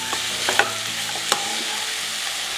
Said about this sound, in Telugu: పాలకూర ఇట్లా మీడియం ఫ్లేమ్ మీద వేయిస్తూ ఇట్లా చేసినట్టయితే వెంటనే మగ్గిపోతుంది